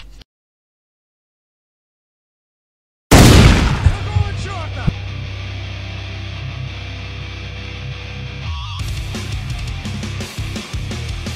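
After a few seconds of silence, a loud burst of gunfire erupts and carries into dense, echoing rapid shots and rumbling explosions, like a video game battle.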